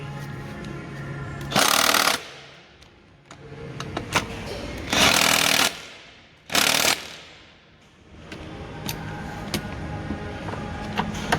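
A power tool tightens engine mount bolts on a 2020 Vauxhall Astra K 1.4 turbo, three loud buzzing, rattling bursts of a few seconds each, separated by quieter workshop background.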